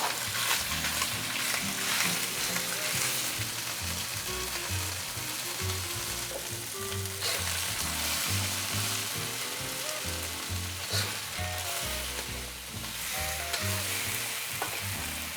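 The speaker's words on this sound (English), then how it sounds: "put the beef in a single layer if you can, and let that sear for a little bit before stir frying" Beef laid in a single layer sears and stir-fries in hot oil for a beef and tomato stir fry, a loud continuous sizzle with crackling spatter and occasional stirring, heard alone without talk.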